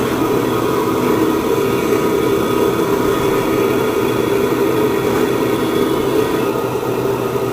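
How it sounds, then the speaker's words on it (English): Blowers push air into a wood gasifier, a steady, loud, unbroken roar of rushing air with a low mechanical hum underneath that holds constant throughout. "I'm hearing a blower up in here somewhere."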